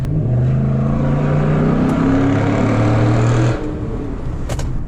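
A 2014 Ford SVT Raptor pickup engine running loud and close at low RPM, a deep steady rumble with a rising tone that drops off abruptly near the end.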